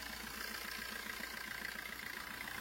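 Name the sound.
Maruti Suzuki Swift VDI diesel engine idling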